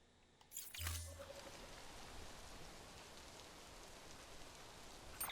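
Rain falls in Death Stranding as a soft, constant hiss of drops, faint and steady throughout, with a brief louder swell near the start.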